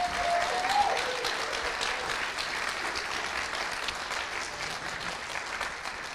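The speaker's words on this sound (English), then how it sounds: "Give them one more round of applause." A debate audience gives the debaters a steady, even round of applause that holds at a sustained level, with a brief whistle near the start.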